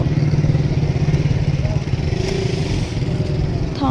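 A motorcycle driven through floodwater rides steadily up close, its mid-pitched engine running continuously with a clattering edge and a faint background voice.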